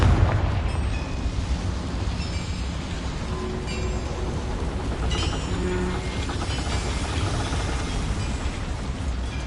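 Confringo fire spell explosion in Hogwarts Legacy, a loud sustained roaring rumble that stays dense and steady for the whole stretch.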